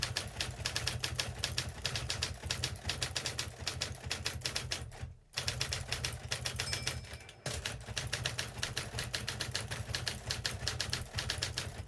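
An Imperial typewriter, a rebadged German Adler, is typed on rapidly. Sharp key strikes rattle along in quick bursts, broken by two brief pauses, each clack close and crisp.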